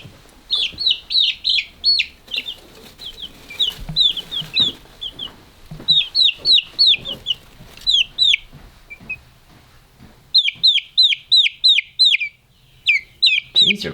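Chicks in a homemade brooder give loud, repeated bursts of high chirping cheeps in quick clustered runs, close by, with short pauses between the runs and a few soft knocks underneath.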